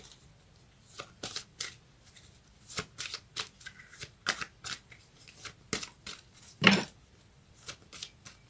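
Tarot cards being shuffled in a run of crisp, papery riffles and slaps, close and fairly quiet, with one louder snap near the end and no talking.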